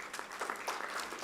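Brief, soft applause from an audience at a health guide launch event at the Embassy of India in Kuwait, a faint, continuous patter of many hands.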